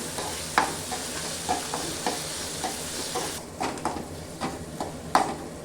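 Tomatoes sautéing in hot oil in a pan fill the scene with a steady close sizzle, while regular clacks of a spoon stirring against the pan break through every half second or so.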